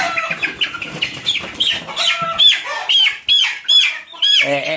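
Desi chicken chicks, forty days old, on a home farm squawk and cheep in a busy overlapping chorus, close and fairly loud, with no talking.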